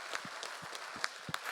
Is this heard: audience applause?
yes